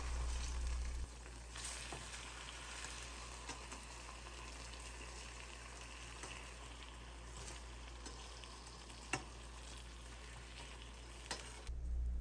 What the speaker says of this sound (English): Cook each seitan steak on both sides until golden brown.